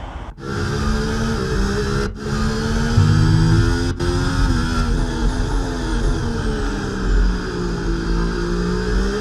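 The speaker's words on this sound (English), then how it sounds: "the Ferrari is going to try to get an inside on Lewis Hamilton" Formula 1 car engines race at the Spanish Grand Prix in Barcelona in EA Sports F1 24: a steady, high-revving whine runs throughout, with pitch shifts as gears change and no talking over it.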